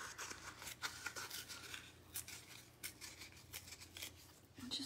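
Scissors cut through pearlescent chiffon in a run of quiet, close snips and fabric rustles, some crisp and some softer, with no talk.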